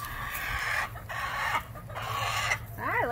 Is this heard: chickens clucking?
yes